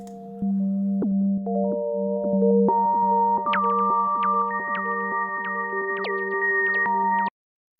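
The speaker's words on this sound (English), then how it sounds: "manipulate these wind chimes into slower atmospheric sounds like" Soft electronic chime notes made in Massive X and Serum sound slowly one after another, ringing and layering over a constant low hum before stopping abruptly.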